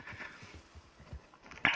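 Horse hooves clip-clop in a steady soft rhythm in the Red Dead Redemption video game, faint and close with a brief brighter sound at the end.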